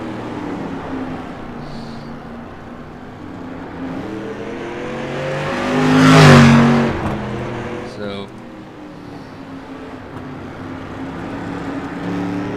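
Street stock race cars in an iRacing video game race roar steadily, with one car's engine swelling loudly as it passes close around the middle and then fading back into the continuous pack drone.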